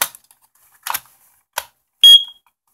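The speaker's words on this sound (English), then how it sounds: "The smoke alarm is chirping again after the third recharging of the batteries." A smoke alarm gives a sharp, high electronic chirp, a low-battery warning after recharged alkaline batteries, near the end, after a few faint clicks and taps in an otherwise quiet room.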